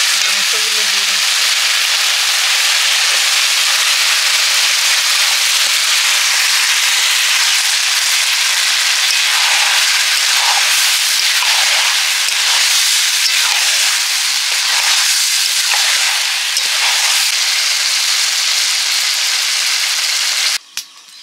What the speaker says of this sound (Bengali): মশলাটা কষা হয়ে গেছে, এবার আমি মাংসগুলো দিয়ে দিচ্ছি